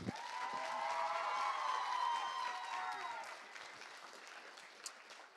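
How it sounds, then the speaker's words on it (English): Crowd applause with cheers and whoops at a state FFA convention award presentation, broad clapping that swells and then fades, heard at moderate distance in a large hall. "So give her another round of applause."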